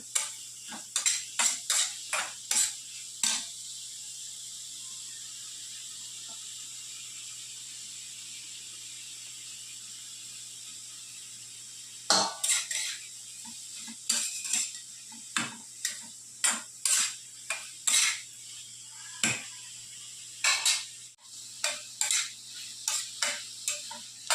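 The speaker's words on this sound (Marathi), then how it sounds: "हे जे टोमॅटो आणि शिमला मिरची कांदा मस्तपैकी तेलामध्ये फ्राय करून घेऊ" Tomato, capsicum and onion being fried in oil for pav bhaji, stirred with a spatula that gives clusters of sharp scraping clicks against the pan over a faint sizzle, with a quiet pause in the middle and no voices.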